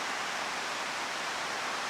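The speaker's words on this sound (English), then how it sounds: "rainy day. Sorry about the noise on the roof," Rain falls on a roof in a dense, steady hiss of broadband patter, constant and unbroken, with no other sound over it.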